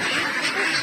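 Ducks being caught on a duck farm in the Philippines quack loudly and continuously in a brief, close burst of overlapping calls.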